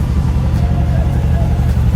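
A Mansory-modified Jeep with carbon fiber trim is driven, its engine giving a steady, deep low rumble heard from inside the cabin, loud and continuous throughout.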